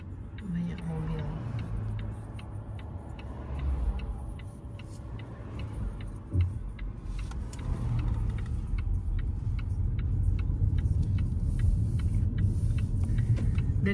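Car driving through busy traffic near Geldermalsen in the Netherlands, a steady low road rumble and engine hum from inside the cabin, with faint ticking and a person speaking over it.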